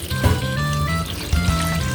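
Water pours steadily into a cooking pot, a continuous close splashing rush with a brief surge partway through, no voices.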